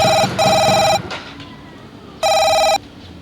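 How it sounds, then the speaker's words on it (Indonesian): A telephone rings in two loud, bright electronic bursts separated by a pause, close by, with faint background noise in between. "Telepon lagi."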